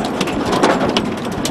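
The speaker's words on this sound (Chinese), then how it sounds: "冰雹夹杂着暴雨，越下越大" Hail mixed with a heavy rainstorm pounds down on open grassland, a loud, dense, continuous hiss and patter with no pauses.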